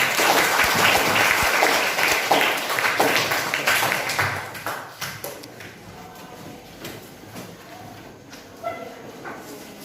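A classroom of students claps loudly and densely. The applause then thins out into scattered individual claps.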